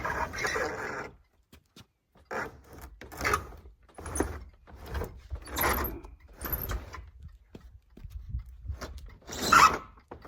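The door of an early-1970s car is opened, with a series of mechanical clunks, creaks and rattles at moderate distance, spaced irregularly across several seconds in a fairly quiet setting.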